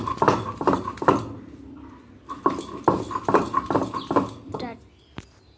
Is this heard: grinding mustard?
yes